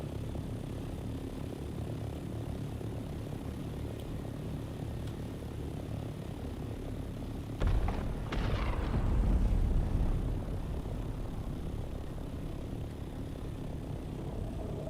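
A Scout ornithopter flying in the Dune: Awakening video game, a steady droning engine hum throughout with a louder whooshing surge and rumble partway through before settling back to the drone.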